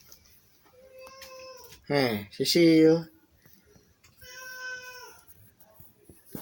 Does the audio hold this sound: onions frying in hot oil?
no